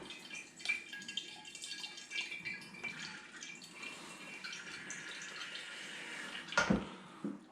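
Wort for a Nectaron SMaSH all-grain brew-in-a-bag batch siphons into a fermenter, a steady close trickle and splash of liquid with faint drips, rising briefly near the end.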